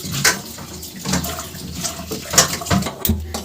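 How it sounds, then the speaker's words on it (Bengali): Lentils are rinsed by hand in a pot of water, with close, irregular sloshing and splashing in several uneven pulses and a sharper knock near the end. "চলো এখন ডালটা ধুয়ে নিই ভালো করে"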